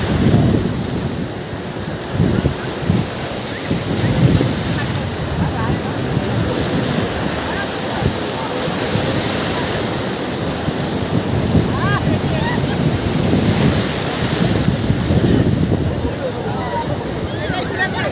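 Ocean surf rolls and crashes continuously on a beach, mixed with gusty wind buffeting the microphone; no clear voices stand out.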